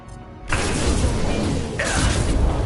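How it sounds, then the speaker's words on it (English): A warp explosion in the video game Mass Effect 2 lands as a heavy, booming crash with a rushing whoosh, followed by a second loud impact amid a dense, roaring burst of combat noise. "There we go, a warp explosion."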